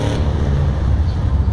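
An Outrigger Racer sports car in GTA Vice City, its engine droning loud and steady in a low rumble for a brief moment, with no talk over it.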